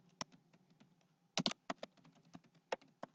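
Fingers type on a computer keyboard in short irregular bursts of close key clicks, with a quick cluster of presses midway, in an otherwise quiet room.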